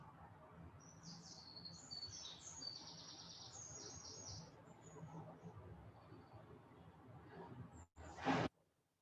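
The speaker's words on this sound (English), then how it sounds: "The bird symphony is beautiful this morning." Morning birdsong, several high chirping and trilling calls repeating in bursts at a moderate distance over a quiet background, ending with a brief louder close noise.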